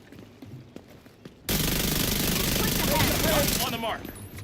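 Gunfire from the Regulus six-shooter pistol in a video game: after a quiet opening, a sudden loud, dense burst of shots and game noise erupts and continues steadily to the end.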